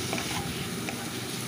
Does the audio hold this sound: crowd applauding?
no